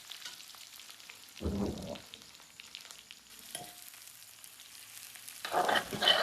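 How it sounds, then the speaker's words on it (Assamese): Onion and green chilli fry in a pan with a soft, quiet sizzle, broken by two louder bursts of stirring and scraping, one early and one at the close. "পিঁয়াজ জলকীয়াটো এনেকৈ ভাজি ল'ব লাগিব প্ৰথম পিঁয়াজটো হালকা ব্ৰাউন হোৱালৈকে"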